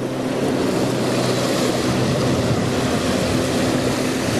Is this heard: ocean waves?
yes